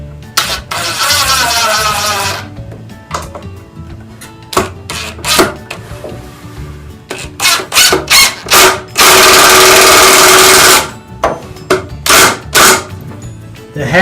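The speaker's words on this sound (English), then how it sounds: "And now I can just drive the screws in." A power driver sinks self-countersinking screws into a wooden Adirondack chair in loud, whirring bursts, with the longest near the middle, among sharp clicks and clunks of handling.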